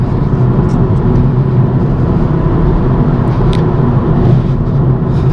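Inside a BMW M135i after shifting into fifth gear, steady engine and road drone fills the cabin at a constant cruising pitch, with no talk.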